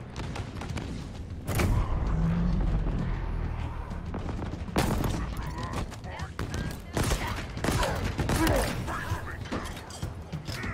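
Gunfire in the Halo Infinite campaign, with repeated sharp shots and bursts, some near and loud, over rumbling battle noise and mechanical clatter, with voices speaking at times.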